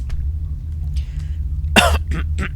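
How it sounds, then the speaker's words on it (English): A close, harsh throat clearing, one rough burst followed by two shorter gruff rasps, over a low background hum. "I had to clear my throat there"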